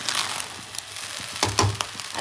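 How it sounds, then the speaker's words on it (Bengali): Fried rice with spices being stirred in a hot pan, a steady sizzle with a few scraping strokes of the spatula toward the end, close and moderately loud, with no talking. "ফ্রাইড রাইসটা হয়েই এসছে, এবার একটু মশলা আমি মানে দিয়ে দেবো, আর একটু টেস্টটা ভালো আসবে না, তো অল্প অল্প মশলা দেবো আর একটু নাড়বো।"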